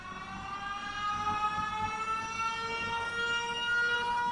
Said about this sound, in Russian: Так, опять эти звуки сиреноголового.